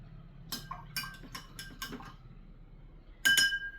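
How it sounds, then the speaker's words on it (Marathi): Soap particles stirred in glasses with a spoon, giving a few light clinks and taps against the glass, then a sharper louder clatter near the end, with no talking. "तर थोडा आपण त्यांना मिक्स करतोय."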